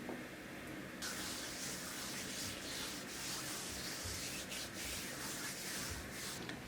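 A grainy body scrub is rubbed across skin during a full-body exfoliation, making a steady, close, rasping friction that continues throughout with slight rhythmic surges.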